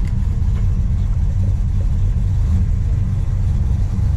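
A 1970 Dodge Super Bee with its V-code 440 Six-Pack V8 runs in a steady, loud, deep low rumble, close by and continuous with no talk.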